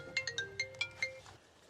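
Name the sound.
phone ringing with incoming call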